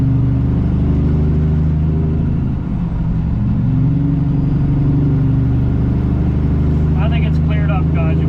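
A Peterbilt truck pulls away after sitting with its brakes set, a steady deep engine rumble close by, with a voice speaking briefly near the end.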